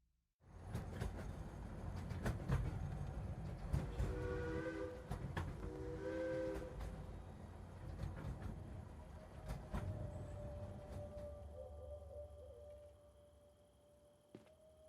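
A train in the Vlad Circus video game rumbles steadily past with rail clatter and brief horn-like tonal blasts, then fades and thins out toward the end, with no voices.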